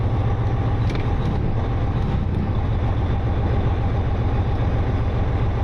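Freightliner truck engine idling steadily, a deep low rumble with a continuous even throb throughout, loud and close with no voices.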